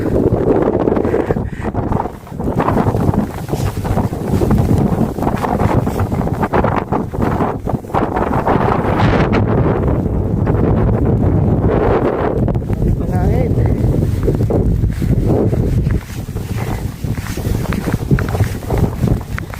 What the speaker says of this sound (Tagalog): Malakas ng hangin. Malakas ng hangin, no?